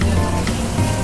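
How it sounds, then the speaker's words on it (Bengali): Egg, chicken and prawns fry for fried rice in a hot pan, giving a dense, continuous sizzle with a few soft crackles, close and alone for about a second. "তো এগ চিকেন এন্ড প্রনটাকে ভালো করে এখানে ফ্রাই করা হচ্ছে।"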